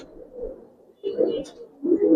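Gribaz and coloring pigeons in a pair coo in low, throaty bursts, close by, in two or three rounded phrases with brief pauses between.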